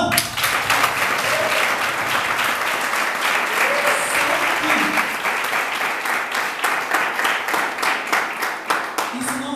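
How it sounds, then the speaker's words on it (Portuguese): A church congregation at a missions seminar gives a round of applause, loud and dense at first, then thinning into more distinct, rhythmic claps toward the end, with faint voices mixed in. "Vamos dar uma salva de palmas"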